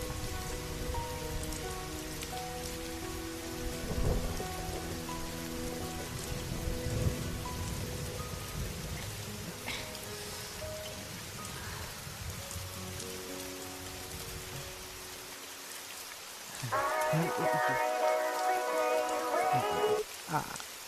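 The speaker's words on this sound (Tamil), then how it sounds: "மழை பெய்யுது" Steady rain pours down outdoors, a dense continuous hiss of drops on surfaces that swells louder near the end, with faint voices mixed into the wash.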